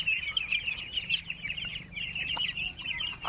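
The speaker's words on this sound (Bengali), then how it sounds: "এটা লোকাল পাতি হাঁস।" Twenty-day-old local domestic ducklings peep in a rapid, continuous stream of high chirps, moderately close against a quiet background.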